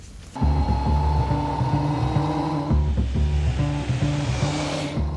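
A used 1998 motorcycle being ridden, its engine droning steadily and fairly loud with a brief dip and change in note partway through before it pulls on again, with no talking.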